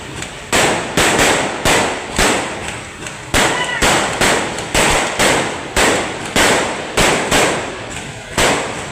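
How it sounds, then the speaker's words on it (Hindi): Loud firecrackers burst one after another in a steady, rapid string of sharp cracks, each snapping close and hard with a brief decaying tail, going on without a break. "अचानक से इतनी ज़ोर से पटाखे बजने लग गए"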